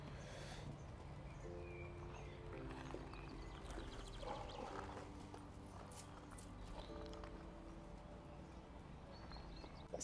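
A stallion's hooves clip-clop at a walk on a stud farm in Ireland, a faint, steady rhythm of hoof strikes with light background ambience and no talk.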